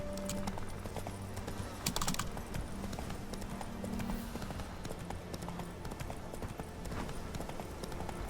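Hooves of Roach, the horse in the video game Witcher 3, clip-clopping in a steady trotting rhythm under low game music and ambience, with one louder cluster of clatter partway through.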